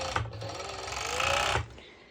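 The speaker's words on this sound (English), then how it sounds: "I'll go ahead to my serger and I will serge it just so it's better secured." A serger runs over fabric in one loud, close, continuous burst that speeds up slightly before stopping, with no voice.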